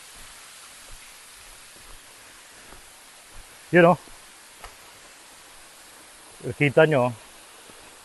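A waterfall's steady rushing hiss carries on throughout, with two short bursts of nearby talk over it.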